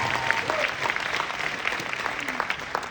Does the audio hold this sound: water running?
no